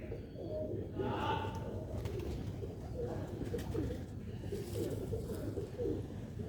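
Young Sialkot pigeons coo softly and repeatedly, close by, in a low continuous warble with faint handling noise mixed in.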